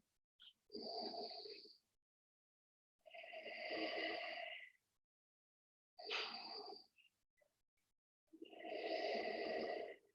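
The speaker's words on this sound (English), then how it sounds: "So focus on that ujjayi breathing." Slow ujjayi yoga breathing, four long audible breaths with a hissing throat constriction, each lasting about a second or two, separated by quiet pauses, close and soft.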